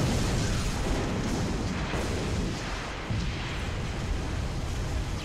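Rumbling explosions and booming blasts from a rocket launcher in Halo Reach multiplayer, a dense, continuous barrage of loud low-end rumble with repeated bursts and no talk.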